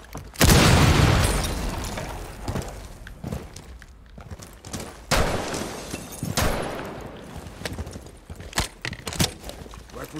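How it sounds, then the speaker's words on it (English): Breaching charge detonating in Rainbow Six Siege: a heavy, close boom with a crumbling tail, followed by scattered debris clatter, footsteps and smaller impacts. "Charge in position. Activating cord."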